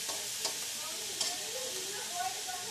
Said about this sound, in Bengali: ভালোভাবে উল্টে পাল্টে করে ভেজে নিব।